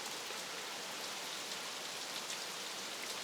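Steady, soft rain from a tropical storm feeder band falls evenly over several seconds, a continuous hiss of drops with no voices.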